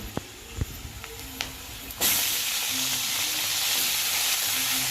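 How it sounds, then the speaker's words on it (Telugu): Tomatoes dropped into a hot pan of browned aromatics, a few soft taps and clinks, then a sudden loud burst of hissing sizzle that holds steady and close. "ఇప్పుడు దోరగా వేగినాక టమోటాలు వేసుకుందాం"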